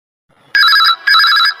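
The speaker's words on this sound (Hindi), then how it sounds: "ये इतना अजीब सा रिंगटोन किसका है?" A mobile phone rings with an odd, unfamiliar ringtone: two loud, bright warbling bursts, close by, with no talking over them.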